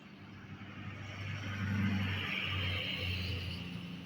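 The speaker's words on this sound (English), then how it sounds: "I wonder how loud these cars are, like on the camera." Road traffic: a car passes fairly close with a low rumbling engine and tyre hiss that swells and then eases, over a steady background of traffic noise.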